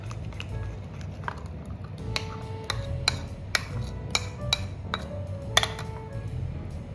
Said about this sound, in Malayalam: അതുവരെ നമുക്കൊന്ന് ഇളക്കി കൊടുക്കാം